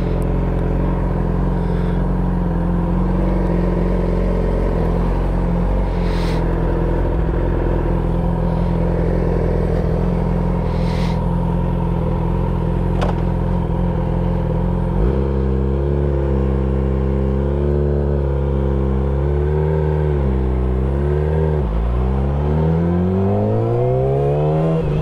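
A car's exhaust rumbling loudly at close range, holding a steady idle drone before rising and falling through several revs in the second half, with no talk over it.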